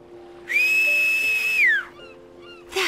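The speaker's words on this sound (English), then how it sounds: "If we ever get separated, you can just whistle to signal for help." A character in the video game World of Final Fantasy whistles one clear, sustained note that bends downward at the end, loud and alone over a soft game background hum.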